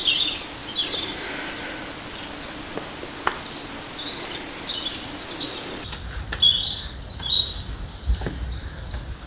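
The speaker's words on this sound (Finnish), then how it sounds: "Matkan varrella kuulee myös lintujen laulua." Birds sing along a rugged north-coast walking trail in Madeira, Portugal, with repeated chirps and short warbling phrases at moderate distance over a quiet outdoor background and faint insect-like hiss.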